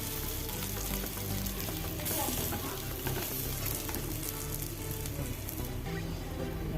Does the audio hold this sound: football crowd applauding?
no